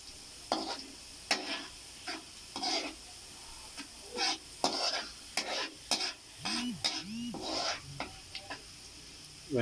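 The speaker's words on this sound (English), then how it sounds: "You saute the garlic like this." Garlic sautés in a frying pan, a steady sizzle broken by repeated scraping strokes as it is stirred, close and fairly loud with no talking.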